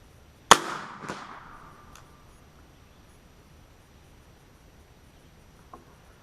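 An AirForce Texan 457CF air rifle fires a .460 slug at a target 100 yards out: one sharp, loud crack with a long decaying echo, a fainter follow-up report, then quiet outdoor ambience and a faint distant tick.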